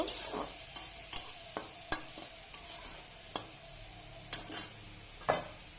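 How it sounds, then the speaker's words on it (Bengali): Sizzling food in a pan with repeated scraping and clanking strokes of a stirring spoon, close and steady, no voices. "ভালোভাবে নেড়ে নেব"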